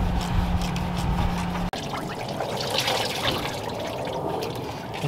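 Coolant pours steadily into a drain pan during water pump removal on a 2007-2010 Toyota/Scion engine, a continuous liquid splash and trickle heard up close with no talking.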